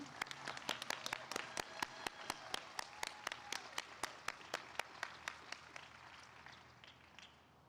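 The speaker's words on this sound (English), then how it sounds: "Can we get one more round of applause for the class of 2021?" A steady run of sharp hand claps at a graduation hooding ceremony, fairly distant, slowing and fading toward the end.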